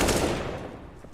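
Pistol fire in a Counter-Strike match between pro teams, a brief burst of rapid shots that fades out over about a second, fairly loud and close.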